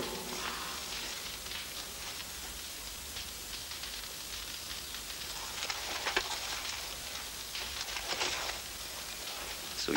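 Rain falls steadily in a soft, hissing patter, with occasional sharper drips standing out against the constant wash.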